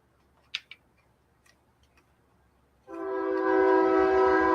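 A train passes and sounds its horn: faint ticking and a couple of sharp clicks in a quiet room, then a loud sustained multi-tone horn blast starts abruptly and holds steady to the end.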